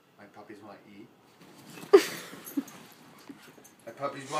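Hungry puppies whimper and yip in short, faint bursts with one sharper yelp, mixed with a person speaking close by.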